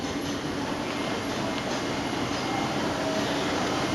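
An Indian passenger train, roughly a kilometer long, rumbles past close by in a loud, steady roar of wheels and carriages with no voices heard.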